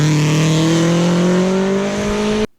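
A rally car races through an evening stage with a loud, sustained engine drone that rises steadily in pitch as it accelerates, then cuts off abruptly.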